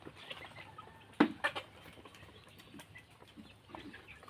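Domestic chickens, turkeys and ducks kept together on a farm make soft, scattered clucks and rustling, with a couple of sharper calls or wing flaps standing out in a quiet outdoor setting.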